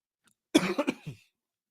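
A single short burst of coughing, two or three quick hacks close up in an otherwise quiet room.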